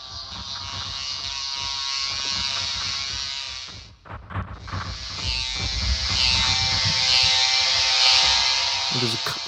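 A looping Cinemorphx sample library patch morphs between two sounds, a dense sustained synthetic tone that thins and dips briefly partway through, then swells brighter and fuller, playing loud and alone.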